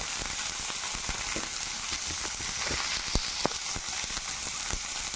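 Chopped onion sizzles steadily in a hot pan, a continuous close frying hiss dotted with small crackles and pops, with no voices, while the onion is sautéed for a spicy snack made from leftover idli.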